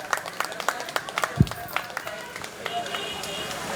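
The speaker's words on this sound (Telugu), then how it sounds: "గట్టిగా క్లాప్స్ కొట్టండి." An audience at a devotional stage program claps for the performers in scattered, sharp, fairly close bursts, while someone talks loudly over the clapping.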